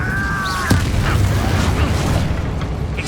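Casting the Incendio fire spell in Hogwarts Legacy gives a loud, close whooshing burst with a low rumble that rolls on for a few seconds amid dense game effects.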